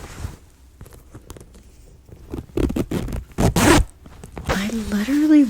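Zipper on a small pouch being pulled open and shut, several quick ripping zips rising in loudness toward the end, close and alone after some soft handling scrapes and rustles in a quiet ASMR setting.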